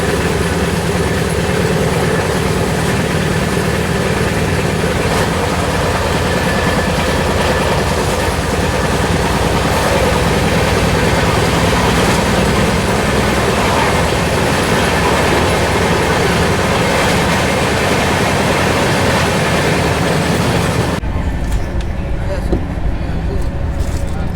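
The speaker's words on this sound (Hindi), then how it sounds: "इस ट्रेन में तो हम पहली बार ही जर्नी कर रहे हैं" Inside a carriage of the East Coast Express, a moving train gives a loud, continuous rumbling roar with steady wheel clatter throughout. Passengers talk over the noise, and near the end the roar drops to a lower, duller rumble.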